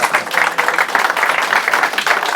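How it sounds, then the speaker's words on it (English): An audience gives a sustained round of applause for a football commentator, dense clapping from a crowd that holds steady for the whole stretch, close and fairly loud. "Round of applause, please, for David Begg."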